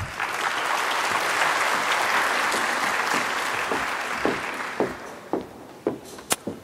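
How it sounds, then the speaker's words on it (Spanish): An audience at an annual scientific conference on metabolic syndrome bursts into sustained, full applause that thins out into a few scattered last claps and taps near the end. "un fuerte aplauso"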